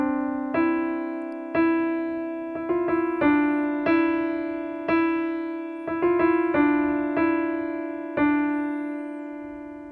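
Solo piano playing a short passage from a piece, right hand only, with clear repeated single notes struck in an even, unhurried rhythm over a held tone, each note ringing and decaying, close and moderately soft.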